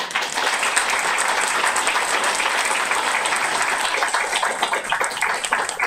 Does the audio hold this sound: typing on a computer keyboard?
no